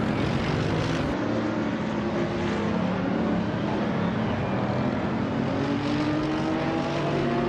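A 2002 Morgan Aero 8 GT2 race car in a racing video game, its engine droning loudly and continuously with rising and falling tonal harmonics as it runs at speed.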